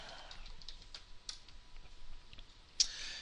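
Quiet computer keyboard typing while logging in to Facebook, a scattering of soft separate key clicks over about three seconds, with one sharper click near the end and no talking.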